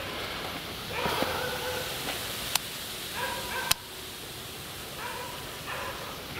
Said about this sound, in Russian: Охраняются собаками.